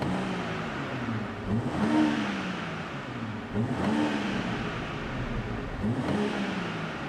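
A BMW M340i Touring engine revs repeatedly, roughly three times, each rise climbing sharply to the rev limiter before dropping back, loud and close with no one talking.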